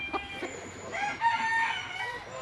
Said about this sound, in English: Here, in the depths of the secret garden, we do find lurking in its natural habitat the light Sussex chicken.